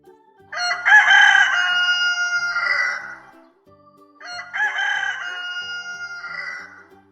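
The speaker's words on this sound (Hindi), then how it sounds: "मुर्गा," A farmyard rooster crows loudly and near, two full cock-a-doodle-doo calls, each drawn out over about three seconds and separated by a brief pause.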